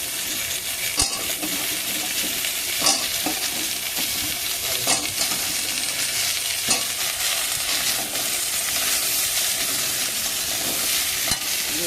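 Papaya and potato pieces sizzle steadily as they fry and get stirred through a cooked spice paste, a close, continuous crackle broken by occasional scrapes and knocks of the spoon against the pan.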